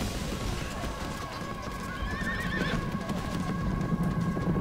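Horses neigh and whinny amid clip-clopping hooves and a dense battle din in the Alexander strategy game, cavalry charging in a clash between India and Macedon, the noise steady and fairly loud throughout.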